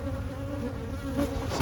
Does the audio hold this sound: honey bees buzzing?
yes